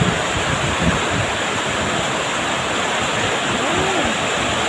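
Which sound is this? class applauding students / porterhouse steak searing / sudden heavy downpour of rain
sudden heavy downpour of rain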